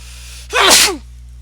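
A single sharp human sneeze, close and loud, bursting out briefly against a quiet room hum.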